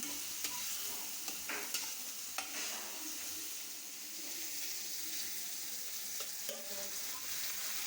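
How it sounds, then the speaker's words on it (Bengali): Ginger garlic paste and spices frying in a pan give a soft, steady hiss, with occasional light scraping and tapping from stirring, fairly quiet and with no speech. "যতক্ষণ না যাচ্ছে ততক্ষণ আমি মশলাটা ভেজে নেব ভালো করে।"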